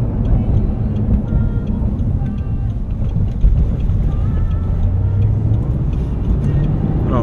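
Audi R8 engine running steadily while driving, a continuous low rumble from inside the car that stays fairly even throughout, with no sharp rev spikes.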